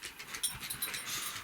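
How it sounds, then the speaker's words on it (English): A dog whimpers and shifts restlessly on a bed, with soft high whines and rustling bedding movements in a short burst, close by and fairly quiet, no talking. "if you hear that noise, it's my dog going crazy on the bed"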